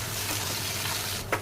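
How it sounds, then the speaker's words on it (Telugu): Cashews, cumin, asafoetida and curry leaves sizzle loudly in hot oil as a tempering for katte pongal, a close, unbroken crackle with a brief clink near the end. "జీడిపప్పు బాగా ఫ్రై చేసి జీలకర్ర, ఇంగువ వేసి"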